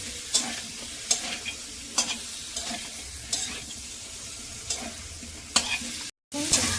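Elephant foot yam sautés with spices in oil while a spoon scrapes the pan in regular strokes about once a second over a low, continuous sizzle, close up, with a brief dropout near the end.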